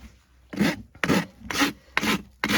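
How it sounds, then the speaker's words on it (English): A farrier's rasp trims an arthritic horse's hoof in five firm, rhythmic rasping strokes about half a second apart, close and dry. "So we're just going to trim this foot."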